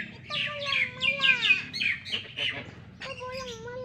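A large bird calls at a deer park in Aceh Besar with a series of loud, close, drawn-out squawking cries in two bursts, separated by a short pause.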